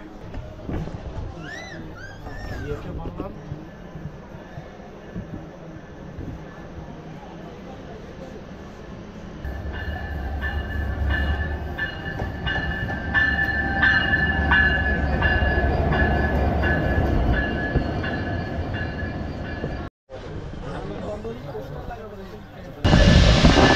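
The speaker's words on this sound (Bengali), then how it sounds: "রাত 9টা 35 মিনিটে বেনাপোল থেকে ছেড়ে আসা বেনাপোল এক্সপ্রেস কমলাপুর রেলওয়ে স্টেশনে প্রবেশ করছে" The Benapole Express passenger train rolls into Kamalapur railway station in Dhaka at night, its rumble and rhythmic clatter of wagons building loudly over about fifteen seconds, with a horn-like tone early on and brief talk mixed in.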